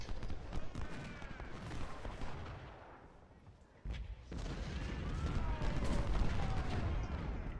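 Skirmishers open fire on an artillery piece in the Ultimate General: Civil War game at First Manassas, with crackling musket volleys and booming reports rolling continuously, easing for a moment before rising again louder.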